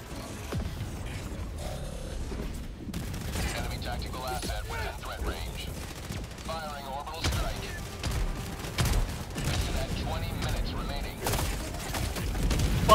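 Turret gunfire and explosions in the shooter game Helldivers 2, with bursts of shots, mechanical clanks and booms layered over a busy battle bed, while players talk over the action.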